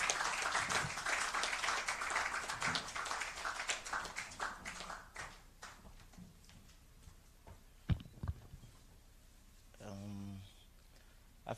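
Audience applause fills a hall at NMB Bank's 2023 financial results event as a speaker is welcomed; dense clapping for about five seconds fades out under a man's speech, with a brief loud knock near the end.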